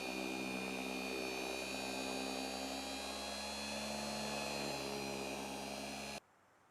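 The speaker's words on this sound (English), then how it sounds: "this is just with a large soft buffing pad on my large random orbital sander" A large random orbital sander fitted with a soft buffing pad polishes a custom guitar body, producing a loud, steady, high-pitched whine that holds constant for about six seconds and then cuts off abruptly.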